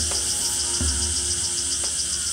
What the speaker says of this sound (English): it is an extremely small and unusual cicada